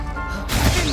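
Incendio fire spell cast in Hogwarts Legacy: a sudden, loud, broad burst like rushing flame that lasts about half a second.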